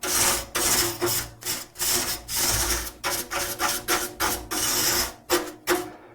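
A whisk broom used dry sweeps dust off a microwave vent in a series of close, brisk bristle strokes, about a dozen rough swishes in an uneven rhythm with short gaps between them, with no voices.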